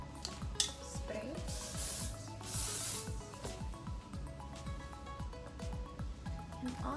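A brief hissing spray burst from a can of hairspray while styling beach-wave hair, heard faintly with light rustling and handling noises around it.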